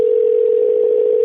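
A phone dialer's steady dial tone hums as one loud continuous pitch for just over a second, then stops abruptly, with no voices present.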